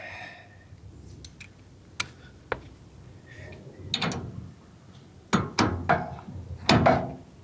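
A nylock nut is run onto a brake control arm bolt on a 1964 Nova during a TBM XS3 brake kit install, with sharp metallic clicks and taps followed by short ratcheting bursts that grow louder toward the end.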